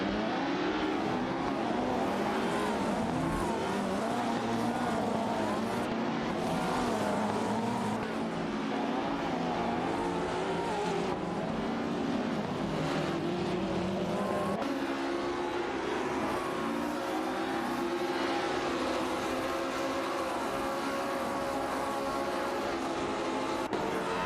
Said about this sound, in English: Rev those pixels. Automobile dashing away.